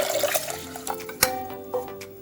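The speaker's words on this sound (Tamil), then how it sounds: "இப்போ நம்ம தண்ணி ஊற்றிக்கலாம். 3 டம்ளர் தண்ணி" Three tumblers of water slosh and splash into a pot of rice for mint rice, an uneven pouring sound with a few sharp clinks, close by and fairly quiet.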